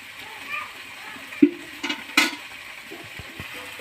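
Water is poured onto cut brinjal and tomato in a cooking pot in a home kitchen, making a few short, close splashes and splatters amid faint background voices.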